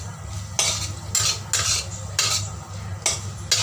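Long beans stir-fried with tofu in a wok, Hong Kong style, with a metal spatula scraping and stirring in bright repeated bursts roughly every half second to second over a steady low sizzle and hum, close and fairly loud, no talk.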